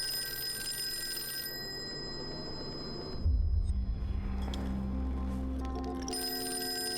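A telephone in the Call of Cthulhu video game rings with a steady electric bell tone, then a low rumbling thud as the receiver is picked up and handled, followed by a few soft clicks.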